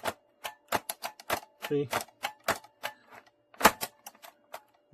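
The chin bar of an ILM modular full-face motorcycle helmet is forced shut with a run of hard, close plastic clacks and knocks, uneven in rhythm, with a brief spoken word among them.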